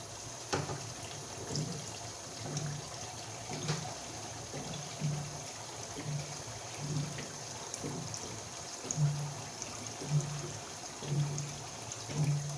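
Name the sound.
water poured into a pot of potatoes for pork stew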